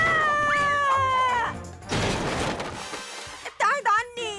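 A cartoon robot cat in a superhero action scene lets out a drawn-out meow followed by a crash-like burst and then short, rising yowls, loud and close over busy background sound.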